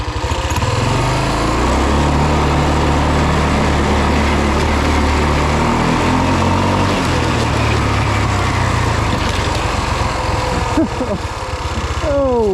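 Rokon two-wheel-drive motorbike fitted with a 223cc Wildcat engine running in second gear, a loud, close, buzzing engine drone holding steady and then shifting pitch as it revs, continuous throughout.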